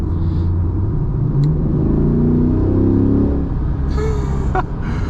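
A C8 Corvette Stingray engine rumbles and revs up, the deep drone rising in pitch as it accelerates, loud and close, with faint background sounds.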